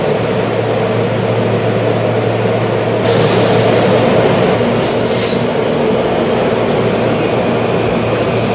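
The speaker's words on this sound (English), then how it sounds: "Another train behind you!" A commuter train rolls into Jenkintown station with a steady low rumble and rising broadband roar, brief squeal-like tones near the middle, loud and close on the platform, with no talk.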